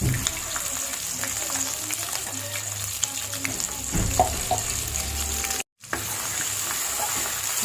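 Onions for gravy fry in oil with a continuous low sizzle, with occasional clinks and stirring sounds and a brief dropout near the end.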